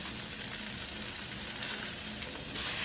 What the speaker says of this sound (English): The chicken is looking good, sizzling away.